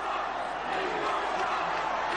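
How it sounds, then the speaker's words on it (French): Convention delegates at a 2016 party rally protest during Ted Cruz's speech: a dense, steady roar of many voices fills the hall for the whole stretch, loud and unbroken. "les applaudissements laissent rapidement la place aux protestations des délégués"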